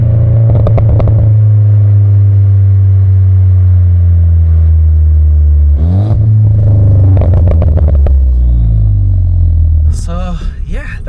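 Tuned Stage 1+ VW Polo GTI with a burble tune: a loud, close engine note that settles from a rev into a deep, steady drone, with crackles and short blips around later revs, and someone talking over it.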